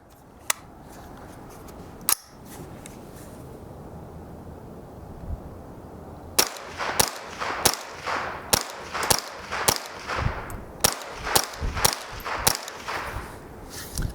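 A Ruger 10/22 semi-automatic .22 rifle fires ten rounds in a quick, even string of sharp cracks, each with a short ringing tail. Faint clicks and a couple of single pops come earlier, before the firing begins.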